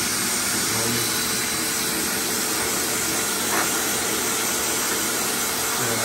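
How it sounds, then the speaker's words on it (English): A pet blow dryer runs continuously with a loud, steady airy whir that fills the scene, with no pauses. "she's about to turn on the dryer"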